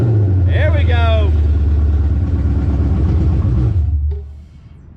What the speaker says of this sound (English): Ripping the tire up